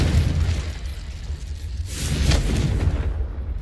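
A Confringo blasting-spell explosion in the Hogwarts Legacy video game, with a deep rumbling boom that swells and rolls on as a loud, sustained low roar, no talking.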